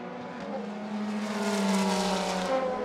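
GTE race cars, a Corvette and a Ferrari, battle on the last lap of a 2023 FIA WEC race, heard as a rising engine whine that swells louder as a car approaches at a distance.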